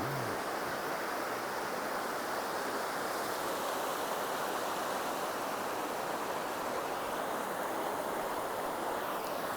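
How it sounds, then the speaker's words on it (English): Water flows in a woodland river, a steady broadband rush that holds even and fairly soft throughout, with no voices. "And the sound of the water. I love it."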